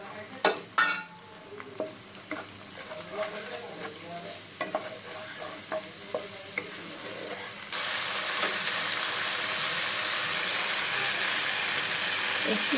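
Spice paste with green chilies being sautéed and stirred in a pan for a taro curry, with scraping strokes and spoon clatter at first, then a louder, steady sizzle once a splash of water goes in.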